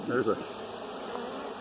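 A steady, close buzz of honey bees in an open hive during inspection hums throughout, with a brief murmur of a voice at the start.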